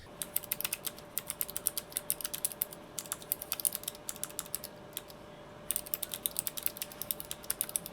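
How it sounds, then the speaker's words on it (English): Clicky optical switches on a Vissles LP85 low-profile mechanical keyboard are typed in quick, crisp bursts with a short pause midway, sharp close clicks over a faint steady hum. "A little bit of a thicker click, a little bit louder, but it's satisfying. There's something nice about typing on this board."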